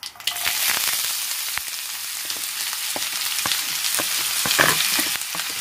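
Chana dal, urad dal, mustard seeds and onion fry in hot oil, a steady close sizzle with scattered sharp pops and crackles throughout, without speech.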